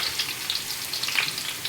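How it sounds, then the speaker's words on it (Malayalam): Garlic, ginger and green chili frying in oil for a Kerala-style fish curry give a steady, close sizzle with fine crackling, a short continuous burst with no voices. "നന്നായിട്ട് എണ്ണയിൽ കിടന്ന് നന്നായിട്ട് മൂക്കണം."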